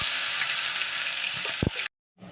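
Ghatkol (taro stems) frying in hot oil, a steady broadband sizzle with a few brief low knocks from stirring, then cutting out into silence before resuming faintly.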